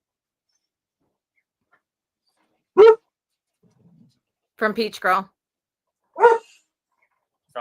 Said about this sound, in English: So I'm really distracted with my dog.